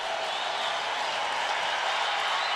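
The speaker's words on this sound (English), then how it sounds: "And the crowd gets noisier if that's possible." A large crowd at a college football game between Cal Poly and North Dakota roars steadily, a dense wall of cheering and shouting that stays loud and unbroken throughout.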